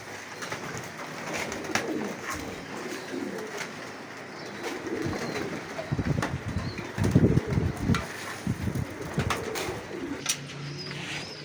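Pigeons flock around scattered grain, with soft cooing, flapping wings and pecking and shuffling sounds that build to a busier, louder burst of wingbeats midway, all close by.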